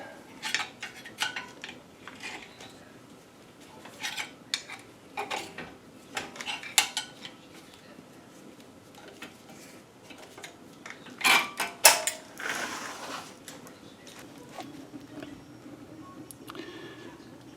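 Metal hardware being pried and pulled off the front brake assembly of an Audi Q5, giving scattered clinks, clicks and creaks in bursts, with a sharp metallic cluster near the end, close up and without talk.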